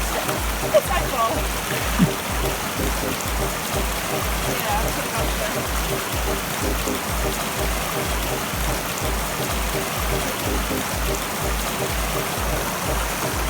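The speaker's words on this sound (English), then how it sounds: "Across the river." Steady rushing and splashing of river water as trail runners wade across during a Western States endurance run, continuous and fairly close, with voices talking over it.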